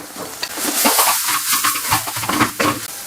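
Spices and greens sizzle and crackle in a hot pan while being stirred for a greens thokku, a close, bright frying hiss with scraping movements.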